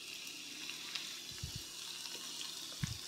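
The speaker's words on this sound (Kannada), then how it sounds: "ಜೀರಿಗೆ ಇಷ್ಟು ಫ್ರೈ ಆದರೆ ಸಾಕು" Cumin seeds and chopped green chilies fry in oil in a pan, a soft continuous sizzle with a few light stirring knocks and clinks, close and without talk.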